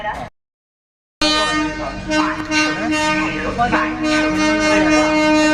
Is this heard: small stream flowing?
no